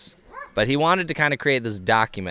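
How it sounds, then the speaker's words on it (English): A dog barks and yips repeatedly at close range while someone talks over it. The bursts come in quick, uneven succession. "there's a dog running around just barking"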